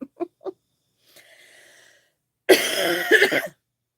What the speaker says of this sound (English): I started coughing a little bit